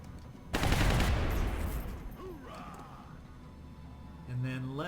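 Weapon fire in XCOM Enemy Within during a battle against a drone: a loud sustained burst of rapid shots erupts, then rings out and decays, followed by a voice talking briefly at the end.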